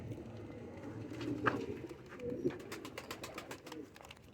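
Pigeons coo softly and repeatedly in a low, rumbling rhythm nearby, with faint wing flutters and light background rustle.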